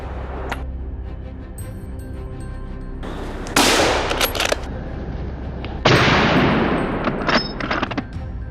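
Gunfire on a wild boar hunt: two bursts of sharp, loud shots, each a quick cluster of cracks, with quieter rustling and outdoor noise between them.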